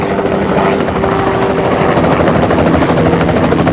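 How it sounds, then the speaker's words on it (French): A helicopter roars loud and close overhead, a steady dense rotor drone that fills the whole stretch with no pause. "on a un hélicoptère, je m'entends plus parler"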